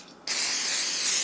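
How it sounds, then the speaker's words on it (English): An olive oil spray can releases a sudden, steady hiss over a tray of spread-out carrots. The spray starts abruptly after a short quiet moment and stays close and continuous. "I'm going to take some olive oil spray and give it like a really good spray"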